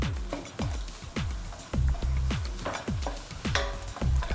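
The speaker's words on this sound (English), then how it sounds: "Going to mix it all." A spoon mixes coriander powder and biryani masala into a dish, knocking and scraping against the pot in heavy, regular strokes about every half second, close and loud, with no voices.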